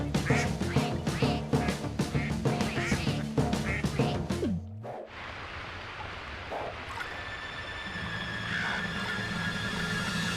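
Several ducks quack in busy overlapping bursts, loud and close, then a short pause and a quieter stretch of scattered quacks over a steady background hum.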